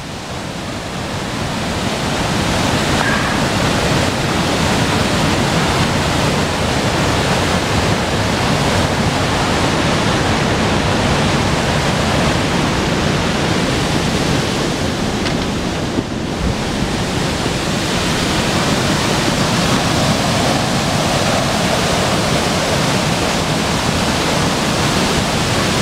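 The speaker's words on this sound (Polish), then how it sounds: "Takie są alpejskie wodospady." An Alpine waterfall pours over a glacier-carved rock channel, a loud, unbroken roar of rushing water that swells in over the first two seconds and stays constant, no voices.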